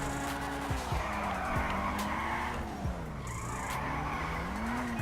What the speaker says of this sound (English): I just at least want something where we can drift properly in the game,